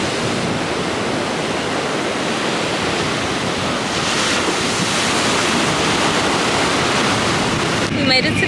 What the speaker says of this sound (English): We made it to the beach, y'all.